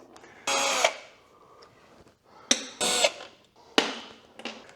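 A power tool backs bolts out in the engine bay of a Corvette C8 coupe, three loud, close bursts of whirring, each ending in a sharp clack, separated by short pauses and fainter clicks.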